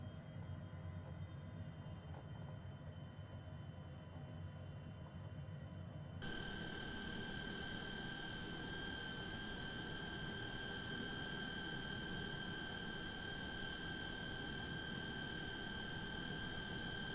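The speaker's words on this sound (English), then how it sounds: "So taxiing out to the runway now." Simulated MG HJet jet engine taxiing at Piedmont Triad Airport in Microsoft Flight Simulator: a steady engine drone with a high whine that suddenly jumps louder and brighter partway through, then holds a constant roar with no talking.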